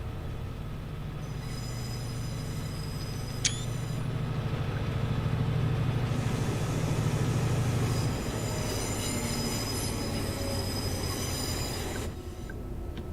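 In the Train Sim video game, a Class 68 locomotive pulling two coaches rumbles steadily with a low engine drone, wheel noise and high squealing tones. The sound is loud and close throughout.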